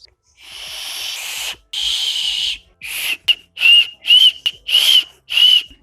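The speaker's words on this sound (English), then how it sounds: "finally the whistling sound is come from my mouth" A loud mouth whistle made without fingers sounds in a series of sharp, breathy bursts, first long blasts and then shorter repeated pulses, close and alone.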